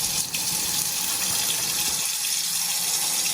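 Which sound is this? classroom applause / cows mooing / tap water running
tap water running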